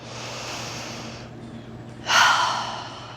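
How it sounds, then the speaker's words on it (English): A deep breath during a yoga flow: a steady, airy inhale fades out, then after a short pause a louder, rushing exhale bursts in and slowly trails away, close and alone. "Take an inhale and an exhale."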